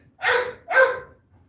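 A dog barks twice in quick succession, two short sharp woofs close by, then quiet.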